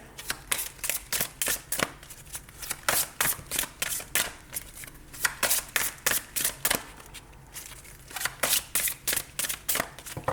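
Tarot cards are shuffled over and over in quick riffling bursts, close and crisp, with short pauses between rapid flurries of card flicks and no speech.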